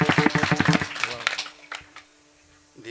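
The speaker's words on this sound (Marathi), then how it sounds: "टाळी वाजवा जरा मस्त" An audience at a Marathi devotional kirtan claps in a quick rhythmic burst for under two seconds, then fades, with a voice speaking over the applause.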